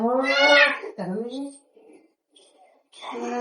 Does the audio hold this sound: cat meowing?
yes